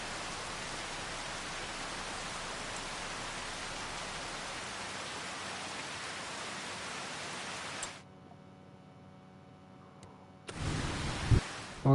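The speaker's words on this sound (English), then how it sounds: "Oh great, and now it's raining." Steady broadband rain pours down in Farming Simulator 25 for about eight seconds, then cuts out to near quiet before a loud burst of rain or weather noise returns near the end.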